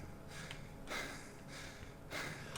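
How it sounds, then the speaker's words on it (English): A game character in S.T.A.L.K.E.R. (Shadow of Chernobyl, OGSE mod) pants with faint, breathy exhales in a slow repeating rhythm, quiet and close, with no talking. "Oh, enough panting."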